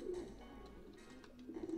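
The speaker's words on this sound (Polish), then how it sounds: "Po co im te gołębie trzymają?" Pigeons coo softly in the video game Jazzpunk, giving a low, continuous burbling that stays close and fairly quiet, with a murmur of ambience and no talking.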